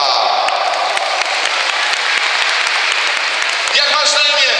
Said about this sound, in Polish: Wielkie, wielkie brawa!